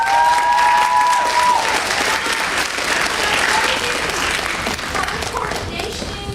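Audience at a Modesto Junior College speech night applauds for speakers Alexis and Gavin, with loud, dense, sustained clapping and a few whistles, gradually tapering off.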